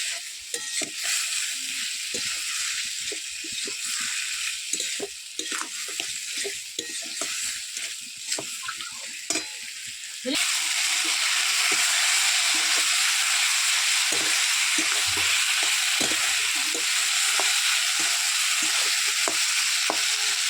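Chicken legs sizzling and frying in a pan while being stirred after salt is added; scraping stir noises sit over a steady crackle that grows louder and denser midway through.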